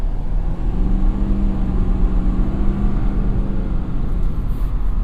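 A 2017 Ford F-250 Super Duty 4x4 pulls hard through its torque band around 2,000 to 3,000 RPM, a steady loud low engine drone with road rumble that holds evenly throughout, with no one talking.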